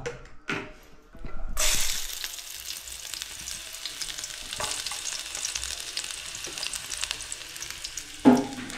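Fish coated in a spice paste fries in a hot pan, a steady loud sizzle that starts up after a brief quieter moment and continues with small stirring clatters, ending in a sharp clank.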